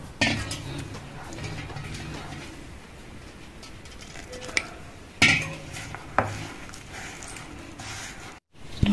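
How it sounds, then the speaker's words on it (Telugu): Rice flour dough is mixed with hot water in a bowl for Karnataka-style akki rotti, with faint soft mixing under a quiet background and a few sharp clinks and knocks against the bowl. "వేడి నీరు ఉన్నది నీరు వేసుకొని కలుపుకుందాం మనం"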